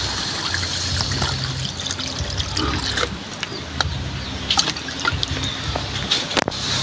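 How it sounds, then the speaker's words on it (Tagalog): Water pours into a pan of cooking pork bones and fat, a near, continuous trickling and splashing with gurgles and a few sharp clinks, lasting several seconds. "Maglalagay na po tayo ng tubig para naman po sa pampalambot ng ating karne."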